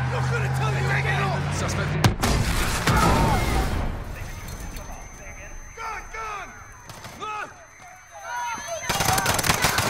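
Gunfire in Call of Duty: Modern Warfare during a police confrontation at Piccadilly Circus, with loud bursts of shots and sharp cracks, shouted voices, and a siren-like tone running under the chaos.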